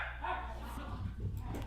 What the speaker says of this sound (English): I'm sorry for the dogs, guys. They're going a little crazy right now.